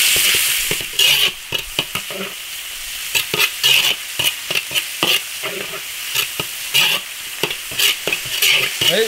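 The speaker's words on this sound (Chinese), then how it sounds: "先把肉末炒散" Minced meat stir-fried in an iron wok while cooking aubergine, loud sizzling broken by quick, repeated scrapes and tosses of the spatula, close up with no talking.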